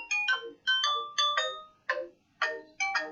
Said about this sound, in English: And now we have a phone call.